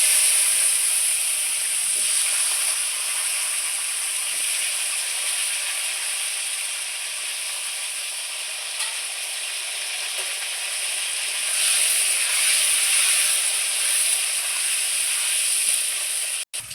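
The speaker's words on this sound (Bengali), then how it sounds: "ধুয়ে রাখা আলুগুলো ছেড়ে দিচ্ছি।" Washed potatoes frying in hot oil with bay leaf and cumin, a loud, steady sizzle and hiss holding throughout with small crackles and no talk.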